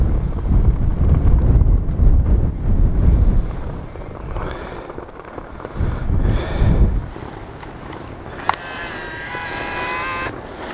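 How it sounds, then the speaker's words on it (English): Wind buffets the microphone on a mountain plateau in low, gusty rumbles, strongest early on, then eases to a steadier breeze with a few faint clicks. "it's a little windy here"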